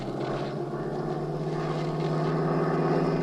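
Airplane engine drone in flight for a radio drama, a steady loud low hum with propeller-like throb that holds evenly throughout with no voices.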